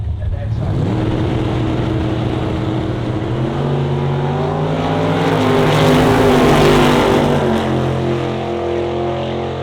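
A 1930 Willys drag race car with a 355-cubic-inch engine roars loudly and steadily, its harmonic engine tone climbing as it revs, while a commentator's voice talks over it.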